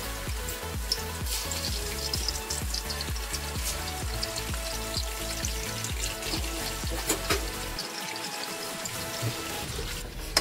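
Chicken pieces for karahi crackle and sizzle steadily in hot oil, a continuous fizzing texture heard beneath rhythmic background music throughout.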